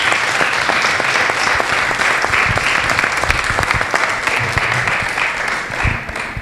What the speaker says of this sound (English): Please join me in one more time celebrating by our applause.